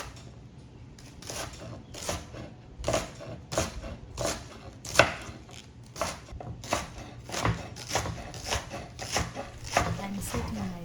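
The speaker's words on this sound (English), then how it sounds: "Cut up all your vegetables. I am using 1 onion and 1 tomato for this recipe." An onion and a tomato chopped with a knife, giving steady, evenly spaced close chops that land about twice a second throughout.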